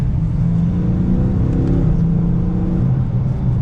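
A 2022 Dodge Challenger Shaker 392 R/T Scat Pack's V8 revs as the gas is hit and released, a loud, close, steady low rumble with rising and falling engine tones, and no talking.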